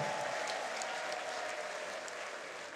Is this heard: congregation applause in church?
yes